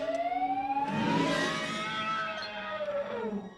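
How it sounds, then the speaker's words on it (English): A synthesized Star Wars Krayt dragon roar effect, a wavering, siren-like tonal wail that swells and slides in pitch over a few seconds, heard alone without speech. "They use the synthy tone from the original Dragon roar that Ben Kenobi did to scare off the Tusken Raiders in the first film"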